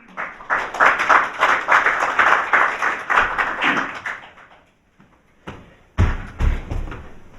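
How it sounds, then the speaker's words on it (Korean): Audience applause in a National Assembly forum hall welcoming a speaker to the podium, a steady roomful of clapping that fades out, followed by a few loud knocks and thumps near the microphone. "큰 박수로 맞아주시기 바랍니다"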